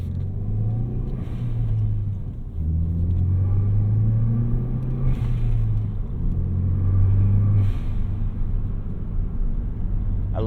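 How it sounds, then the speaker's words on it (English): A 2018 Ford Focus ST driven on the road, heard from inside the cabin: a steady, loud engine rumble rising and falling with revs, with brief airy hisses from the blow-off valve between gear changes. "I love that blow-off valve. It makes this car so fun."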